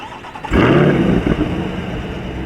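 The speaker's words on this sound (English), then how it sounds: "just walking to the car and hitting that remote and getting that motor to start is just an adrenaline rush" A 2022 C8 Corvette engine fires up by remote start, a sudden loud close roar that settles into a rumbling idle.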